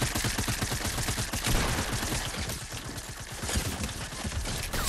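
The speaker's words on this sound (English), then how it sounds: "they just faced the wrath of my SMG" SMG fire in Fortnite rattles out in dense, rapid bursts, loud and close, a continuous barrage of overlapping shots lasting the whole stretch.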